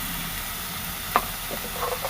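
Tomato and fenugreek leaf curry stirred in a frying pan, a soft steady sizzle with a few short scraping clinks of the spoon close by, no talking.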